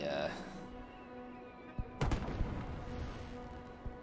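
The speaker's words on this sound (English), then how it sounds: "At least we have fireworks." Fireworks in the city-building game Cities: Skylines burst in a cluster of several sharp booms near the middle, with a lone pop later, over a steady game soundscape and hum.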